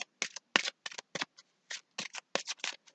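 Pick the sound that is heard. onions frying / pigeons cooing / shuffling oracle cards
shuffling oracle cards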